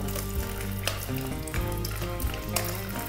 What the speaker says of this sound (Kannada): ಹಿಂಗು ಚೆನ್ನಾಗಿ ಫ್ರೈ ಆಗಿದೆ.